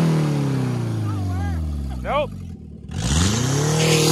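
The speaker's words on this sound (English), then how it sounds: "One little tiny burnout." A manual-transmission Pontiac revs hard during a burnout, its loud engine roar rising and falling, briefly dipping, then surging again. Voices talk and call out over the engine noise.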